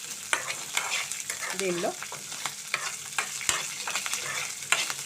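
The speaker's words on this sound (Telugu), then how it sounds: "ఈ మిరపకాయలు బాగా వేగిన తర్వాత తెల్లగా అవుతాయి కదండి." Green chillies frying in hot oil in a pan, a steady sizzle with scattered crackles and pops, a brief scrape of stirring partway through, up close with no talking.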